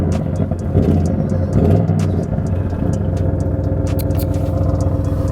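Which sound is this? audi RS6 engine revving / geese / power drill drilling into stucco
audi RS6 engine revving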